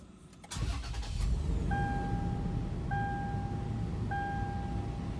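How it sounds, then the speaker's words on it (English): A Toyota 4Runner engine cranks briefly and catches, settling into a steady idle hum, while a few evenly spaced dashboard chimes ring out over the running engine. "Actually, we gotta start the car first."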